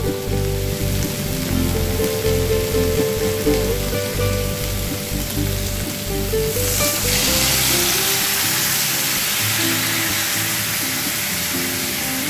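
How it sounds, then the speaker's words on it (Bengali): Water poured into a pan of frying coriander for a traditional Bengali pumpkin and potato dish, a loud dense sizzle and bubbling hiss that surges and turns steadier as the liquid hits the hot oil, close, no talking. "এবার এতে আমি জল ঢেলে দিচ্ছি।"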